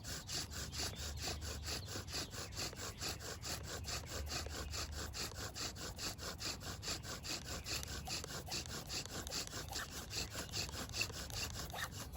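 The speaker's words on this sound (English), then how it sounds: "Tighten it up, even though it looks like we have an ember already." A bow drill spins a spindle on a Virginia pine fireboard with a T-shirt bowstring, a steady back-and-forth wooden grinding with rapid regular strokes, continuous and close.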